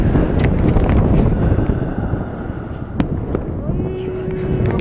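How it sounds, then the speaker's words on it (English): Strong, gusty wind buffets the microphone at an outdoor spring high school baseball game, a continuous loud rumble that swells and eases, with faint voices in the background. "we have a brutal wind today"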